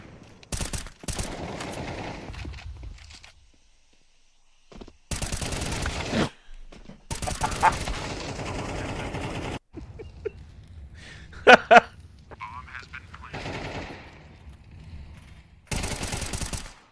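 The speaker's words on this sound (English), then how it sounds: "still shooting at nothing" Counter-Strike video game gunfire: bursts of rapid automatic shots broken by silent gaps, loud and close, with a few sharp single cracks later on and no talk.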